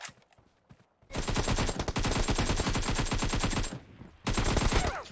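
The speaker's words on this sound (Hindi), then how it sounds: "पीछे से एक कवर फायर आया शायद उसका" Dense automatic gunfire from PUBG Mobile in a team deathmatch, covering fire coming from behind: a long sustained burst of rapid shots, a short pause, then another loud burst, close and alone.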